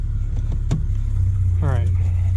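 A Chrysler Crossfire SRT6 track car engine cranks and catches, its pitch sweeping up in a short rev before settling into a steady low rumble.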